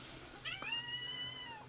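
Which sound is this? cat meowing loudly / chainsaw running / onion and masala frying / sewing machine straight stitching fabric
cat meowing loudly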